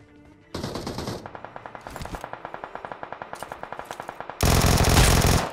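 Rapid bursts of automatic gunfire in a mobile battle game on a OnePlus phone, a steady rattling stream of shots with louder, denser blasts at the start and end, no voices.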